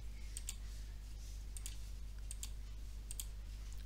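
Quiet computer mouse clicks come in small pairs roughly every second, soft and close, over a steady low electrical hum.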